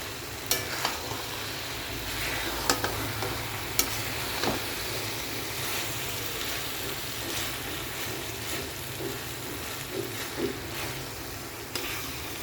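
Bun stuffing cooked in butter in a pan and stirred, giving a soft steady sizzle with scattered scraping clicks from the stirring, quiet and close.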